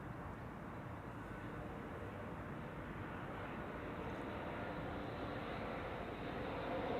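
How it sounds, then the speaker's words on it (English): A German Airways airliner flying on behalf of KLM on final approach at Amsterdam Schiphol, a steady distant jet engine roar that swells slightly toward the end, heard alone. "German Airways flying on behalf of KLM"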